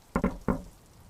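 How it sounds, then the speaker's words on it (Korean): Three light, sharp taps, two in quick succession then a third after a short pause, close and clear against a quiet background. "톡톡 이렇게 톡톡거리는 소리가 나는 거야."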